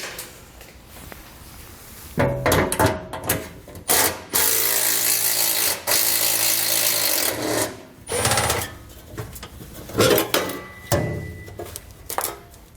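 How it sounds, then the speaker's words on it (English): A ratchet with a 13mm socket loosening bracket bolts and nuts on a 2016 Ford F-series truck, heard as irregular bursts of close mechanical clicking separated by short pauses. "we're going to take a 13mm socket. We're going to remove 2 bolts we see here, as well as 2 nuts on the back side of this bracket."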